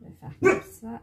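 A female dog gives one short, sharp bark indoors, cutting in while someone talks close by.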